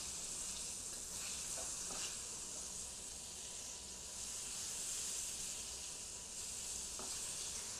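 Food frying in a hot pan gives a continuous, even sizzle and hiss, fairly quiet and close, with a few faint clicks of stirring and no talking.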